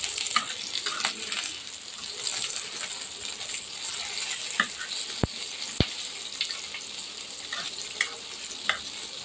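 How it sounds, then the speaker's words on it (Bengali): Onion, garlic and green chili frying in a wok for a mashed potato bharta, giving a steady soft sizzle with a few sharp clicks and taps standing out, close by and moderately quiet with no talk. "তো আস্তে আস্তে এরকম পেঁয়াজ রসুন কাঁচামরিচটা ভাজা হোক"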